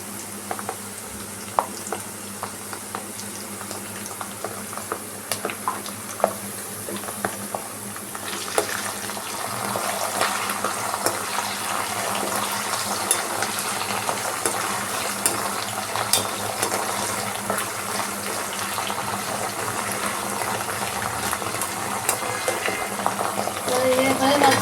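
Ginger garlic paste fries in a pan for a parwal curry, giving a steady close sizzle that grows louder and denser halfway through, with light stirring clinks.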